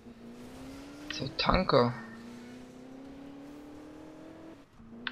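A car pulls away in the German police driving game Alarm für Cobra 11, its engine humming steadily with a brief burst of revving or tire noise near the start, while someone speaks over it.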